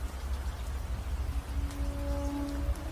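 Steady rain falling, a dense even hiss with low rumble underneath, continuous and close, with a faint tonal hum rising in the background partway through.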